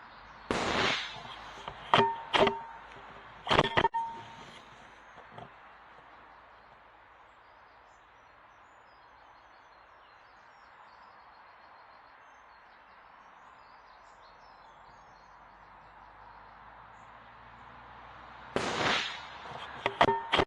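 Several sharp rifle shots at 100 yards, fired with a Pulsar Digex C50 scope mounted, crack out in a quick cluster early on, then a long quiet stretch before another loud burst of reports near the end.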